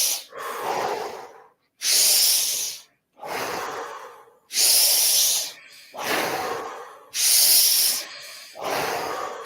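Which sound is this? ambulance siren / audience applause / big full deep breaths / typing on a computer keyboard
big full deep breaths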